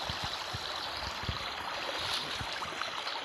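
Steady broadband rush of flowing river water in the countryside, continuous and fairly close, with occasional low thumps and knocks scattered through.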